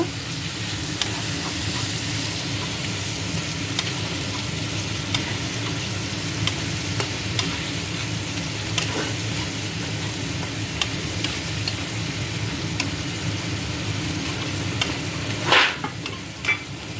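Chili paste stir-fried in a pan gives a continuous close sizzle with light scraping and stirring clicks throughout, with no talking.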